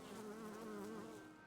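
Bees buzzing around a beehive in the Timberborn video game, a steady close droning hum with a wavering pitch, alone and continuous.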